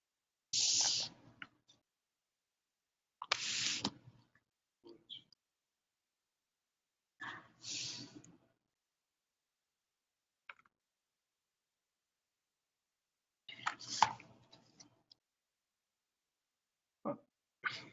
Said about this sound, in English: So you can see there's Kyle typing